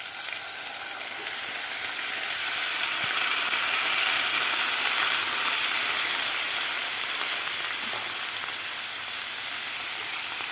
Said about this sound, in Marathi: तर तांदूळसुद्धा हलक्या हाताने व्यवस्थित आपल्याला 2 मिनिट या तुपामध्ये परतून घ्यायचे आहेत.